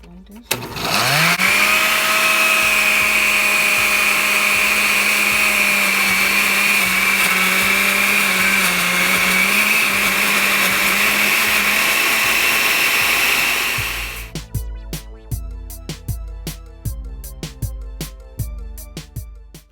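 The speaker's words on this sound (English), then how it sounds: "I'm going to blend this." A blender whirs loudly and steadily as it purees yuca with water, a sustained close motor drone that cuts off near the end, leaving scattered knocks and clatter.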